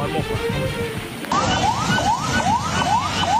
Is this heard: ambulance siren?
yes